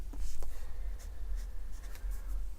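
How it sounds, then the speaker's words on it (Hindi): Quick scratchy strokes of writing on a board while working through a quadratic equation, several short bursts at close range over a steady low hum, with no talking. "तो अब मैं इसको लिखता हूँ यहाँ से"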